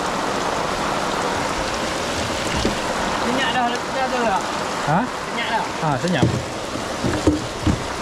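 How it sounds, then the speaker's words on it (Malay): Heavy rain pours steadily around a small boat on open water, a dense continuous hiss under people talking nearby. "Hujan lebat sangat."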